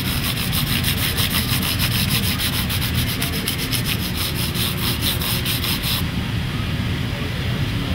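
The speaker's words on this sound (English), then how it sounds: "I'll take some 400 and kind of round the tops back out so they're not flat." 400-grit abrasive is worked over the tops of guitar frets during a fret dress on a PRS guitar, giving a loud, rapid back-and-forth rasping that runs steadily, then the strokes stop near the end, leaving a duller hiss.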